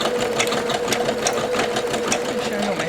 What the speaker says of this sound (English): it's doing like some of those punch down stitches for the white area, and then it'll start kind of filling it in